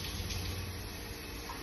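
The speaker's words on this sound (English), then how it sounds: "I'm gonna put some water in here." Tap water runs into a container for a mug of mushroom coffee as a steady, even, hissing stream close by, with no voices.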